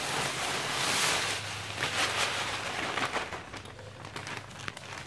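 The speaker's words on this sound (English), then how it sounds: "We're gonna add all of our grains into the mash tun." Brewing grains of light Munich and mild ale malt poured into a mash tun make a soft hissing, rustling cascade that swells early and thins out with scattered grainy crackles toward the end.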